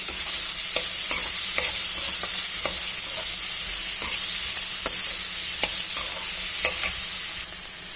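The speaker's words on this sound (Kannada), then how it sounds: "ಈಗ ಇದಕ್ಕೆ ಈರುಳ್ಳಿ ಹಾಕ್ಕೊಳ್ಳೋಣ. ಚೆನ್ನಾಗಿ ಹುರ್ಕೋಬೇಕು." Onions fry in a pan for a millet dinner recipe, giving a steady, close sizzle with regular light scrapes and taps as they are stirred.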